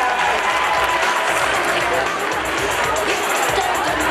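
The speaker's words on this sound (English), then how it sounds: "Big round of applause." At a graduation fashion show fundraiser, an audience keeps up dense, loud applause with crowd noise mixed in the whole time, and voices can be heard through the clapping.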